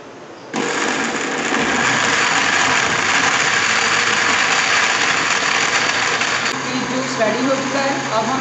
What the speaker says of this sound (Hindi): अब हम इसको ब्लेंड करते हैं।